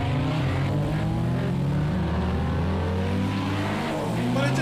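Audi race car engine in the Project Cars video game, held against the rev limiter, giving a loud continuous buzzing drone with rapid stuttering cut-outs and a steady high-pitched whine.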